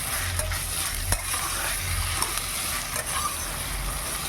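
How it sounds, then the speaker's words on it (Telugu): Palasa-style country chicken curry with garam masala and ginger-garlic paste being stirred in a pan: continuous close frying sizzle with light scraping knocks from the spoon. "అన్నీ వేసుకొని కలుపుకోవాలి బాగా"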